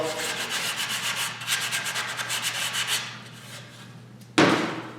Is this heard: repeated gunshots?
no